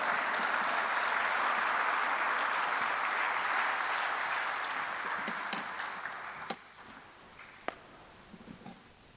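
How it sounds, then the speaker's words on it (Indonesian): An audience applauds after a speech by SBY, a broad wash of clapping that fades after about six seconds, leaving a few scattered sharp claps in a quieter room. "Bapak Ibu kita berikan tepuk tangan sekali lagi untuk Pak SBY."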